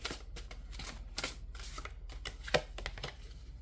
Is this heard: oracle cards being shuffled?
yes